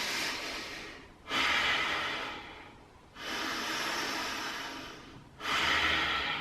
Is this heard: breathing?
yes